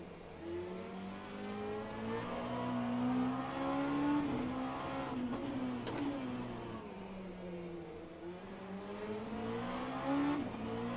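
A Ferrari race car engine in the rFactor 2 racing game revs and climbs through the gears, a steady loud drone rising and falling with brief tire squeal, no voices over it.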